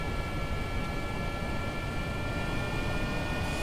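Boeing 747 jet engines spooling up in Kerbal Space Program, a steady broadband roar with a thin high whine, holding constant and fairly loud throughout.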